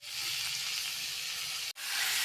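Chicken pieces added to golden fried onions in a hot pan, giving a steady loud sizzle with a brief break near the end before the frying hiss resumes.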